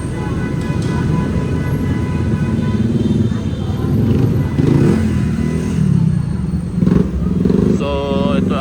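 A red Yamaha XSR 900 GP motorcycle engine runs close by, a steady rumbling idle with small revs and uneven surges throughout, joined by a few brief clanks and a short higher tone near the end.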